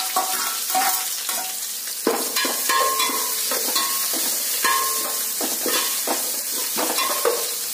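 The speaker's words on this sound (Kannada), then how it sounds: "ಈರುಳ್ಳಿ ಸ್ವಲ್ಪ ಕೆಂಪಾಗಿ ಫ್ರೈ ಆಗಲಿ" Chopped onions frying with urad dal and curry leaves in a pan, a steady hiss of hot oil broken by repeated scraping and stirring strokes of a spatula, close and continuous.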